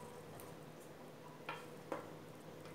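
Cooked green moong dal is stirred into onion-tomato paste in a pan. A faint bed of quiet cooking noise runs underneath, broken by two short scraping strokes of a spoon.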